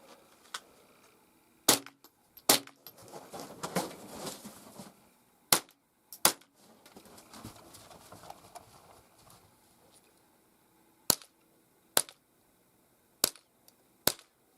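.22 rifle shots at targets ring out as sharp, isolated cracks, about nine spaced unevenly through the stretch, with quieter rustling and handling noise between the early shots.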